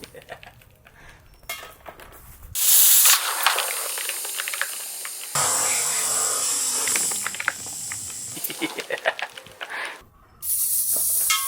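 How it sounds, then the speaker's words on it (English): Shaving foam forced out of a hydraulic press during a double squeeze, heard as loud hissing, spraying and squelching in separate bursts with short pauses between them, close to the listener. "I had to give it a double squish to enjoy the foam being pushed out of the press"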